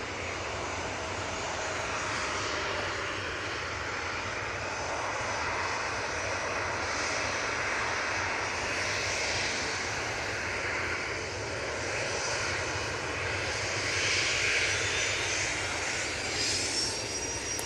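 A TUI airliner at Manchester Airport roars steadily throughout, its broad jet engine noise sustained and fairly near, swelling slightly toward the end with no talking over it.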